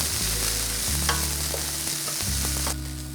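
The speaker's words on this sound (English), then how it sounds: "I'm gonna saute these onions up until they're soft." Diced onions sauté in a hot pan with a loud, even sizzle and a few quick scraping stirs, close up and with no voices, before the frying noise drops away near the end.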